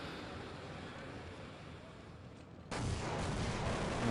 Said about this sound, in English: Here come that grenades again.